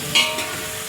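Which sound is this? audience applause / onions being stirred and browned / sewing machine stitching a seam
onions being stirred and browned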